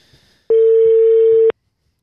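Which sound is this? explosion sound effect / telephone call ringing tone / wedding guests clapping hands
telephone call ringing tone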